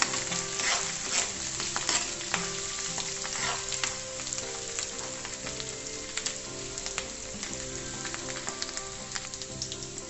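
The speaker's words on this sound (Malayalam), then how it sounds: "അതും കൂടി ഇട്ട് നല്ലതുപോലെ വഴറ്റാം." Curry leaves sautéing in a pan with oil for a banana stem pickle, a steady close sizzle and crackle broken by frequent stirring scrapes, with no voices.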